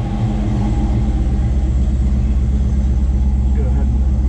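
A restored 1965 Ford Mustang GT Fastback, warmed up, runs with a steady, loud, close-up engine rumble. A slight blip of the throttle pushes it up briefly, and a voice talks over the running engine.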